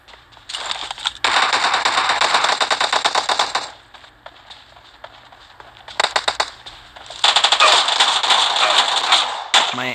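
Rapid Uzi gunfire in an online shooter video game, several long automatic bursts of sharp cracking shots with short pauses between them, loud and close.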